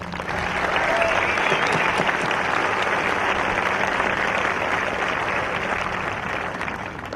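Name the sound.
audience applause at a commencement ceremony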